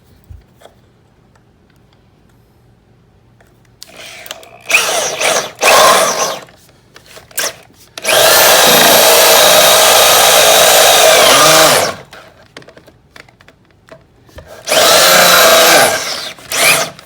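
A power drill with a spade bit bores into wood in repeated loud whirring bursts, one long stretch of about four seconds and several shorter runs, with quiet handling between.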